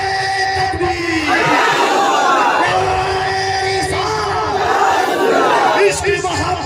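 A large religious gathering shouts back in unison after a Nara-e-Takbeer call, loud overlapping yelling voices rising and falling in several waves over a few seconds.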